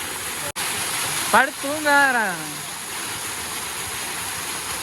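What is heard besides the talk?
large waterfall on the Yercaud trip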